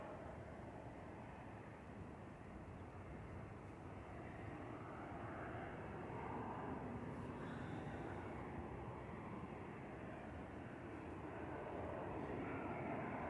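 A Ryanair passenger jet arriving from Palma de Mallorca at Manchester Airport produces a steady, distant engine roar that swells slightly over its length. The sound is fairly quiet and continuous, with no voices.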